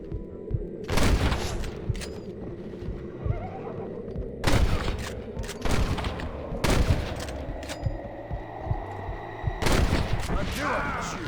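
Loud gunshots in Red Dead Redemption on PC, several sharp reports spaced seconds apart, mixed with a horse whinnying and low ambient hum in the background.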